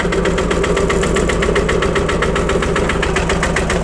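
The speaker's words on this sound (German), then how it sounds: "Seht mal, ich schleppe im zweiten Gang rückwärts." An old farm tractor engine runs steadily while towing in reverse in second gear, a loud, even chugging throb with a constant mechanical rattle and no talking.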